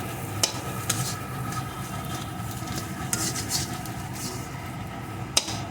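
A potato filling made with leftover roti and a little tomato sauce fries in a pan while being stirred, a soft continuous sizzle with occasional sharp clicks of a spoon against the pan.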